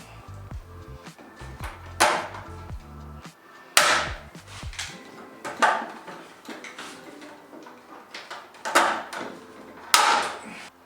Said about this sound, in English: Let's rivet that on.